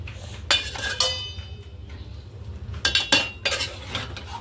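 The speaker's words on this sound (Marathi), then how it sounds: "अशी फक्त वरच्यावर याला हलवायची, वाफेने शिजते मच्छी" Dried white bait fish gets stirred in a pan with a metal utensil, which scrapes and clinks sharply against the pan in a few close bursts over a low steady hiss.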